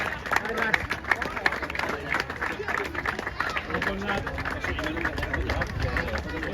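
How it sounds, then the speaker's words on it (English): Steady applause and clapping from a crowd of spectators after a Sunday league cup final, with general crowd noise and babble mixed in, sustained and fairly even throughout. "All round of applause all the way through, please."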